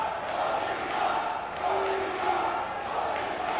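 Wrestling crowd at MLW Slaughterhouse roars in a dense, sustained wash of cheering and shouting behind Satoshi Kojima, with commentators talking over the noise.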